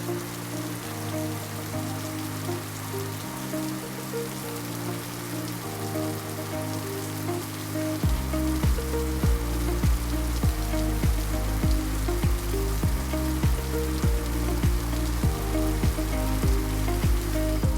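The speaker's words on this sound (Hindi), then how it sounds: "लंच के बाद बहुत ही तेज़ बारिश हो गई थी" Heavy afternoon rain pours in a continuous dense hiss that grows heavier halfway through, with a sustained tonal music bed droning underneath.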